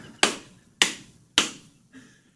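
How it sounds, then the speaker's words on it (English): Three sharp hand claps from one person, evenly spaced about half a second apart and close by, followed by a softer fourth tap, with no talking. "That's me clapping."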